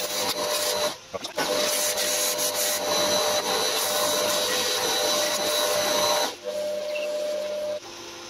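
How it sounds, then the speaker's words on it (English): A power sander strips paint off a metal milling table, a loud steady whine close by with two brief dips where the tool lifts off. "we'll sand this paint off and try not to take too much and make too much of a mess of it."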